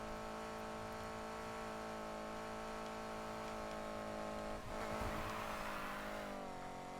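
Car in the racing game Need for Speed Heat at about 190 km/h, a steady loud engine drone with whooshing wind and a brief surge of road noise near the end.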